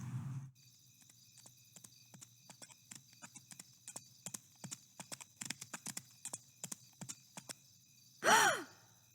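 Horse hooves clip-clop in a steady, fairly close walking rhythm over a quiet backdrop, ending in a short loud huff or snort from one of the horses.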